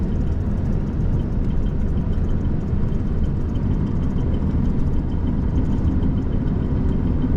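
An old truck's engine idles steadily up close, a dense low rumble with no pauses, heard alone without any voices.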